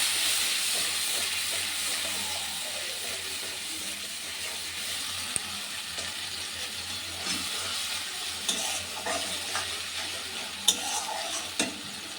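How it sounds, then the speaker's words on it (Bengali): A ground spice paste of ginger and other spices fries in a pan for a spicy whole pointed gourd dish, hissing steadily and softly, with scattered light scrapes and taps of stirring near the end. "এই পেস্টটা এবার এটা দিয়ে দেবো। এটা কষাতে থাকবে।"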